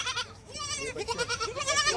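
Several Kathiyawadi goats bleat repeatedly and close by, their wavering cries overlapping in a continuous chorus with little pause.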